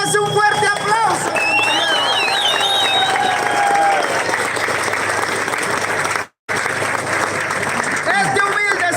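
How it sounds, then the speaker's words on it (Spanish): A live audience breaks into loud, sustained applause with some cheering and crowd noise, with a brief dropout partway through and a voice faintly present early on. "Y eso se merece un fuerte aplauso."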